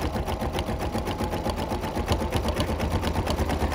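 An embroidery machine stitches out a design at close range, producing a rapid, steady mechanical chatter of repeated needle strokes with a low motor hum underneath.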